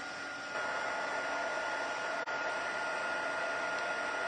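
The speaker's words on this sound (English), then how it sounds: "I'm going to go ahead and emboss with my heat tool, and I have my heat tool set on the high setting" A craft embossing heat tool runs on its high setting, blowing a steady, close, hissing airflow with a faint whine and a brief dip midway, with no voices.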